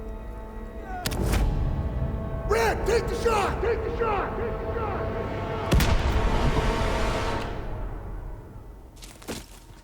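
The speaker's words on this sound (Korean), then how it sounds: "총소리 들려." Gunfire and explosions from the Call of Duty: WWII campaign, a few loud sharp bursts around the start and middle over a constant battle rumble, with layered game effects in between.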